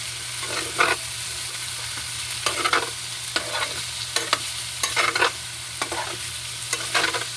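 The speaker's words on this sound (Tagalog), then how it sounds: "Tapos, halo-haloin natin" Potatoes and corned beef stirred in a frying pan: repeated close scraping strokes of a utensil against the pan in an uneven rhythm, over a steady sizzle.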